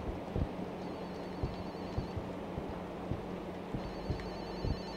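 Inside the horror game Fobia – St. Dinfna Hotel, a telephone rings faintly somewhere in the building, its soft repeated pulses coming at a steady rhythm over a low ambient hum.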